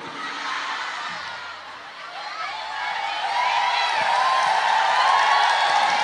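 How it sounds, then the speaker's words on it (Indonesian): An audience at an Islamic religious sermon breaks into a sustained wash of clapping and crowd noise that swells gradually and holds steady for several seconds. "Kok iso tepuk tangan?"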